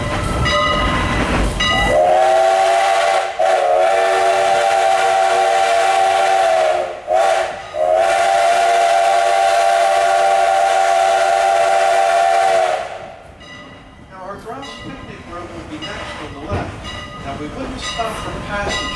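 Strasburg Railroad No. 89 steam locomotive sounds a long, loud whistle in several sustained blasts over the rumble of passenger cars near Paradise, Pennsylvania. The whistle then fades to train noise with voices talking in the background.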